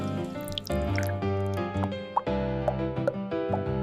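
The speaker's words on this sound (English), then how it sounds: "Will it drip slowly? Yes, we let it take its time." Wild cliff honey drips slowly into a container, a run of soft irregular plops and drips, close and fairly loud, with a dense resonant wash beneath and no talk.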